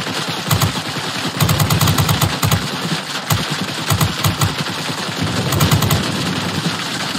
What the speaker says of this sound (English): Guns are overheating.